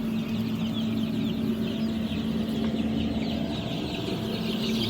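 Chicks in a crowded poultry house make a continuous dense cheeping and clucking, fairly close and steady, with a low hum running underneath.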